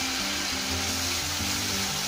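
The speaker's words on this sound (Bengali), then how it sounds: "হলুদের গুঁড়া, মরিচের গুঁড়া, মশলাটাকে ভালো করে কষিয়ে নিতে হবে।" Turmeric and chili powder masala frying in a pan, a steady, loud sizzle hissing continuously with a faint low hum beneath and no talk.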